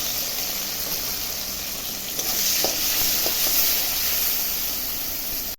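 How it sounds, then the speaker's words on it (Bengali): Bitter gourd frying in hot oil in a wok, seasoned with salt and turmeric: a steady, close sizzle and hiss runs throughout, with a few soft stirring clinks partway through. "করলাটা এখন ভেজে নিচ্ছি আগে। দেখো, কড়াই তেল দিয়েছি, গরম হয়ে গেছে।"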